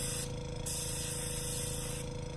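Airbrush or spray gun misting paint as overspray onto a flocked brant decoy, with a soft continuous hiss that swells in two short bursts over a low hum, close by.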